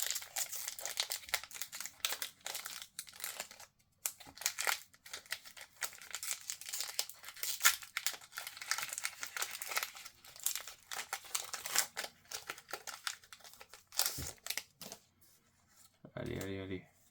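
Pokémon card booster packs are torn open, giving bursts of crisp wrapper crinkling and tearing, close and fairly quiet, with short pauses between handlings and a brief voice near the end.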